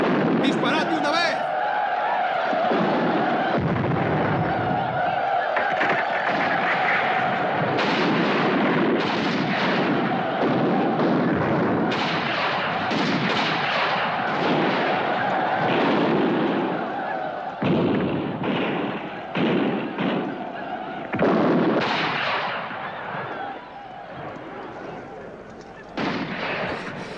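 Cannon fire in a 1955 historical film about colonial-era California, heard as repeated heavy booming blasts mixed with a dense, loud battle soundtrack that runs continuously for the whole stretch.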